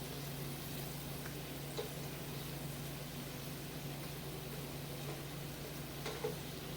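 Garlic sweating in butter in a hot pan gives a faint, steady low sizzle, with a couple of soft clicks of stirring and no talking.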